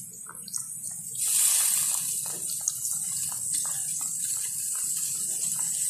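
Soy sauce is poured onto tofu with a soft, steady trickling and splashing that starts after a quiet moment and runs continuously, close and moderately loud.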